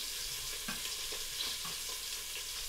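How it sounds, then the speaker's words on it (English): Beef shank browning in a pan for caldo de res, a faint steady hiss of sizzling with a few soft knocks and pops. "side one of our shank should be nice and browned off"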